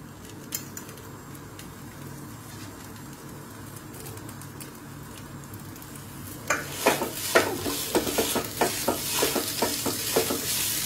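Boiled potatoes are stirred into a chicken singara filling in a pan. A quiet stretch with pigeons cooing gives way to a run of firm scraping and tapping strokes in the second half.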